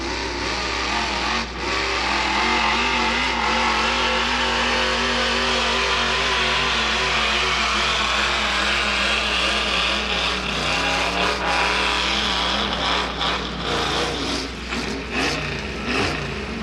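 A tractor-pull truck engine revs hard and loud throughout a truck pull, a sustained roaring drone with shifting pitch and occasional surges, close and continuous with no talk.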